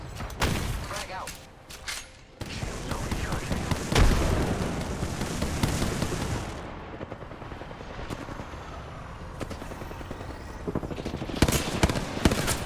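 A video game frag grenade is thrown and bursts with a heavy boom amid ongoing gunfire, followed by a rumbling roar and scattered shots, with a voice speaking briefly.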